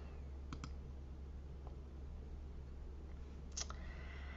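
A computer mouse clicking in a quiet room: a soft double click, a single click and another double click, faint over a steady low hum.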